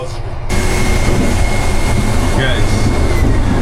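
Interior of a moving Indonesian luxury train, a loud steady rumble of wheels on track and cabin hum that swells after a short quieter moment, with a thin whine on top and a voice faintly under the noise.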